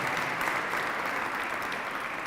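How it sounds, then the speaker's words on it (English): An audience at a graduation ceremony applauds in a dense, steady wash of many hands clapping, even and sustained, heard from within the hall without voices on top. "please, another round of applause for Vanessa, for Aaron, and for Lonell."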